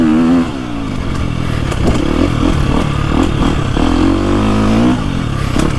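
A 2025 KTM 350XCF Factory Edition dirt bike engine revs up and down close by, a loud buzzing motor rising and falling in pitch with clattering, continuous throughout.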